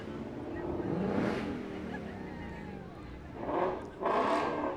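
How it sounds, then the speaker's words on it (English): A Ford Mustang engine revs during a Fourth of July parade in Concord, California, with two or three throaty swells rising over street noise and crowd chatter. "We're not supposed to rev our engines."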